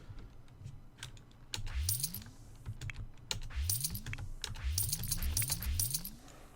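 Rapid clicking keystrokes on a computer keyboard while a cheat code is typed into The Sims 4, in irregular close bursts mixed with sharper key clacks over a faint low hum.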